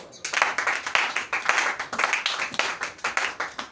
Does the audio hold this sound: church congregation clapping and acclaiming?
yes